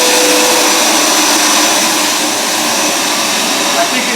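A loud, steady roaring whine of a 1200-watt Kalorik water filtration vacuum cleaner motor runs continuously, close by, with a faint voice under it.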